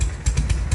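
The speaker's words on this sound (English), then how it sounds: "Listen to this idle." A restored 1970 Harley-Davidson FLH with a well-tuned Shovelhead engine idling close by, giving a loping, uneven rhythm of low thumps at roughly four or five beats in under a second.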